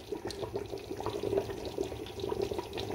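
A thick Neapolitan ragù bubbling and popping softly in a pot, a steady low blipping simmer with small wet bursts throughout.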